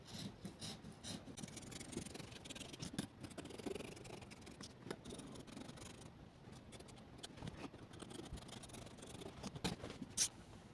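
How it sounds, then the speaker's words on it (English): Scissors cutting out a fabric pattern for a mermaid gown, a steady run of faint rasping snips and rubbing crunches close by, with no talking. "Then I'll cut this out."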